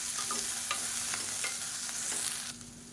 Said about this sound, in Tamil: வெண்டைக்காய் கழுவிட்டு சின்ன சின்னதாக கட் பண்ணி வச்சுருக்கேன் இதை சேர்த்துக்கலாம் இப்போ நல்லா வதக்கி எடுத்துக்கலாம்